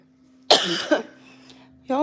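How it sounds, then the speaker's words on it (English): A single harsh, close cough with a short second burst, over a low steady hum, followed by the start of a voice. "I've had this cough for a while"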